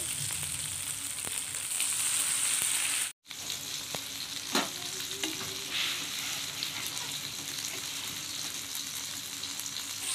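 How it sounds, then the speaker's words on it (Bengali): A fish curry with ground spices and turmeric sizzles steadily in a pan, with occasional spoon taps and scrapes during stirring and one brief dropout. "আমার ঝোলটা ফুটে দিচ্ছে মশলাটা"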